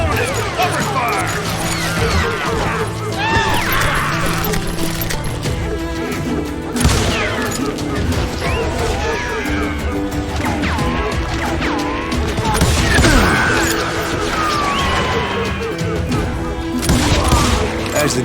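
Gunfire and explosive crashes fill a Wild West shootout in Call of Juarez Gunslinger, dense and continuous under an orchestral music bed, with voices calling out over the battle.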